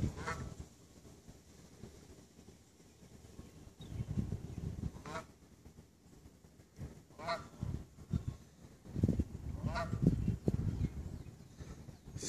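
Geese honk in scattered bursts at a moderate distance while being chased by a dog, the calls rising and falling in flurries amid outdoor background noise.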